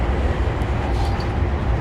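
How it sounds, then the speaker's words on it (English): HST train coasting with brakes released in Train Simulator 2015, on the Bristol to Exeter route: steady broadband rumble and rolling noise, constant and fairly loud, with no engine surges or talk. "I've released the brakes so the train can gently coast back up towards 100"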